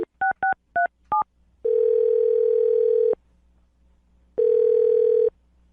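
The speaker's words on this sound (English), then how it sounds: "I'm going to dial his phone number right now." Touch-tone keypad beeps from a phone being dialed: five quick paired-tone presses, then two long steady ringback tones separated by silence, clear and close.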